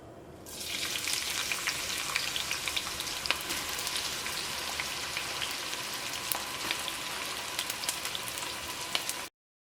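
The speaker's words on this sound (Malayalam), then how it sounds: "ഇനി ചൂടായ നെയ്യിലേക്ക് സവോള ചേർക്കുക" Sliced onions hit hot ghee in a pan for chicken curry, bursting into a loud, dense, steady sizzle with crackling pops that continues unbroken until it cuts off abruptly.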